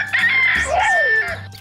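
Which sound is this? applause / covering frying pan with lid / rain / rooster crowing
rooster crowing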